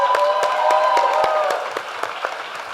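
A seated audience at a real estate agents' masterclass session in Orlando gives the panelists steady applause, with dense clapping throughout that eases off slightly toward the end.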